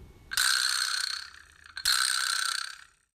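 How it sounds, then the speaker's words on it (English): A vibraslap struck twice, each hit a loud buzzing metallic rattle from the prongs in the wooden box that fades away, the second coming just after the first dies down, close and alone. "and the vibraslap."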